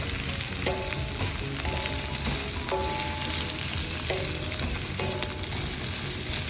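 Vegetables for chicken noodles frying over high heat, a steady loud sizzle with periodic scraping stir strokes about once a second, close by and without talk.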